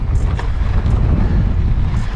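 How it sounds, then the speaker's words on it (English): Strong wind blows across an exposed hilltop on the Pennine Bridleway during a mountain-bike trip, roaring and buffeting the microphone in a continuous low rumble with no talk. "It's really windy up here."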